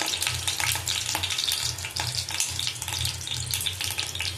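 Bay leaves crackle and sizzle in hot oil while tempering masoor lentil dal with gondhoraj lime, a dense continuous spitting fry close up with occasional stirring clinks.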